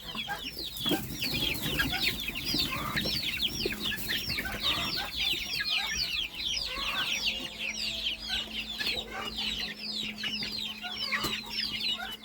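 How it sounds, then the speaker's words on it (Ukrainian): Bantam chickens cluck and chatter continuously outdoors in a damp run after rain, a dense flock of repeated short calls close by. "Он курочка бентамка вийшла."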